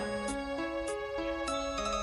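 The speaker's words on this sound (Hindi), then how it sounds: "आपका फोन बज रहा है। Your phone is ringing" A phone ringtone plays a repeating electronic melody of sustained tones that step up and down in a regular pattern, with brief bright chimes recurring about every 0.6 seconds, steady and clear with no voices.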